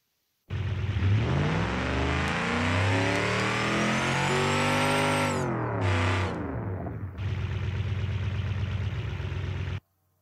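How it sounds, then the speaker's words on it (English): A supercharged car engine revs hard, its pitch and tuned supercharger whine climbing in one long sweep, dropping off, then a short blip and a sustained high rev before cutting out; loud and close, with no talking. "it takes a little bit of tuning to get that supercharger noise"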